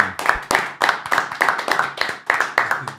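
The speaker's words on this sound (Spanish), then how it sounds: "Un aplauso a temprano man." A small group at a children's birthday party claps in a fairly regular rhythm, close and sharp, each clap distinct with short gaps between.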